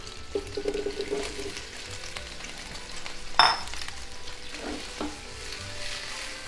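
Tomato hits extra oil in a pan with a steady, soft sizzle and crackle, with a couple of brief stirring clinks partway through.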